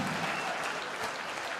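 An arena audience applauds after a fight: a dense, steady burst of clapping from a large crowd, with some voices mixed in.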